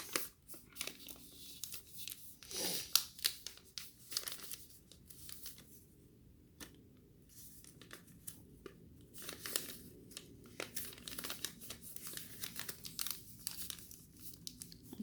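A sheet of paper is folded into an origami Articuno, giving close, quiet crinkles and sharp creasing rustles in irregular bursts with brief pauses, no speech.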